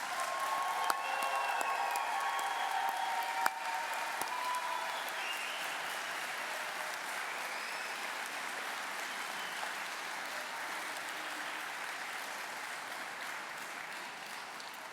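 Sustained applause from a large crowd for graduates at a university commencement ceremony, dense steady clapping at even level for the whole stretch, heard from a distance in a big hall.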